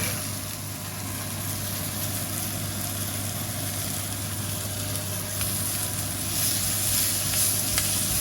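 Chilies and garlic drop into a hot pan for a HelloFresh meal, producing a continuous even sizzle that holds steady and close with a faint low hum underneath.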